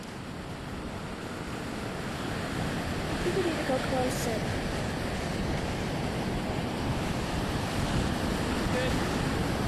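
Ocean surf and strong wind roar steadily at the shore during Hurricane Earl in 2010, with heavy buffeting against the microphone. Someone speaks briefly over the constant wash of the waves.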